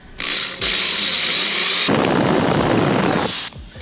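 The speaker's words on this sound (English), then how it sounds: "I'm using 5/8 and 3/4 inch paddle bits because they kind of match these pegs" A power drill bores into wood with 5/8 and 3/4 inch paddle bits while a busted chair is turned into a side table, two loud sustained whirring bursts with a short pause between them.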